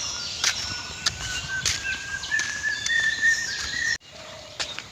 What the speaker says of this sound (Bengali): ওই গাছটায় সেই আওয়াজ দিচ্ছে, অনেক সুন্দর সুন্দর পাখির আওয়াজ